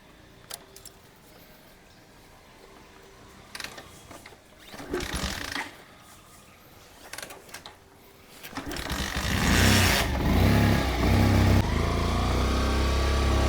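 A motorcycle running low on petrol: its engine idles unevenly with a few short revs, then surges into a loud, sustained roar near the end.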